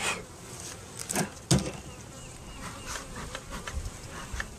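A dense, steady buzz of many honeybees swarming close by around an open hive, with a few brief louder passes and no talking.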